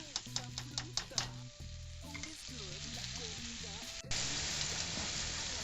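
Potato pieces fry in plenty of oil for a Spanish tortilla, a continuous close sizzle with a few stirring clinks early on, then a louder burst of frying toward the end, no talk.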